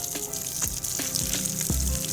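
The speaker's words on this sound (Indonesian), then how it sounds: "Ini saya siram sampai full" Water poured onto the soil around a freshly planted serut (Siamese rough bush) tree cutting, a steady close splashing gush with a few soft gurgles over roughly two seconds, alone without talk.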